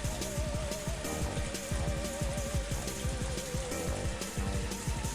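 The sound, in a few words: rain in the forest, from the video game Higurashi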